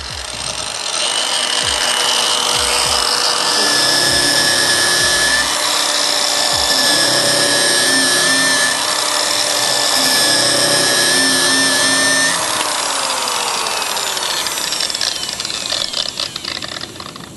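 Power tool finishing stainless steel, a steady loud whine with a grinding rasp that holds for about twelve seconds, then shifts in pitch and winds down roughly toward the end.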